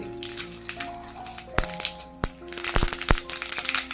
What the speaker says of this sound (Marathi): दोन चमचे मोहरी घालते